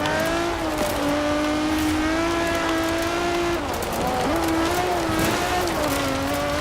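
Quartz Regalia Type-D rally car in Forza Horizon 4 driving in third gear, its engine holding a steady, loud drone with small pitch dips as it shifts and carries on, no talking.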